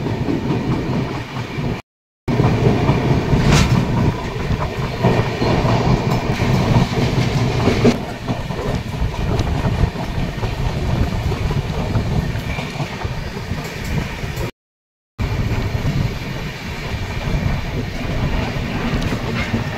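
A Mumbai suburban train rumbles along the tracks between Kalyan and Dadar, with a steady low roar and rattling clatter, wind buffeting the microphone; no talking.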